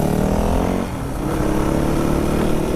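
A 2003 Yamaha WR450F motorcycle engine revs loudly and close, a continuous rasping roar with a brief dip before it climbs again.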